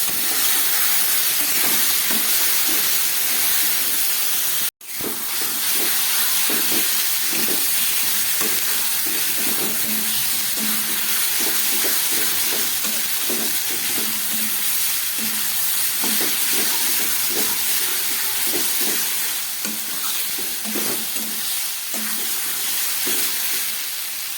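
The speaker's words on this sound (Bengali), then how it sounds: "আদা রসুন পেঁয়াজ কাঁচা লঙ্কা দিয়ে একটু কষিয়ে নিলাম।" A ginger, garlic, onion and green chilli spice paste frying in a pan, with a steady loud sizzle and hiss and repeated scraping stir strokes throughout, close and without talking.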